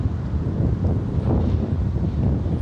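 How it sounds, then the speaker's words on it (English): Wind blows hard outdoors, a dense, steady roar of buffeting noise across the microphone with no voices. "I'm not that cold, but it is windy."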